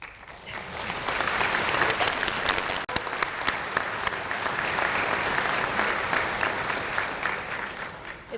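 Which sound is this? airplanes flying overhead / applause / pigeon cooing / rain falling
applause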